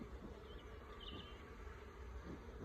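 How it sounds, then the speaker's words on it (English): Honey bees buzz around an opened hive in February, a faint, continuous swarm drone with individual insects passing close by. "Well, the bees will come out."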